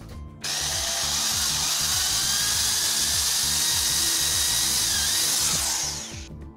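Power drill boring holes while building a DIY night lamp, one continuous loud whirring run of about six seconds that starts abruptly and winds down at the end, with no talking.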